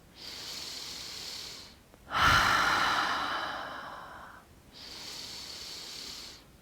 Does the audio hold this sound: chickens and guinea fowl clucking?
no